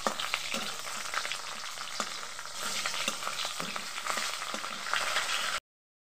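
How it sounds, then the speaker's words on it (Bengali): A fish head frying in hot oil, a continuous close crackling sizzle with occasional stirring or spatter pops, cutting off abruptly near the end. "আর এইদিকে দেখো আমি মাছের মাথাটাকে ভেজে নিলাম।"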